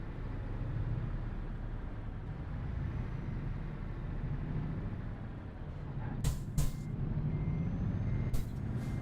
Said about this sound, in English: Oh, I can hear my squeaky brakes.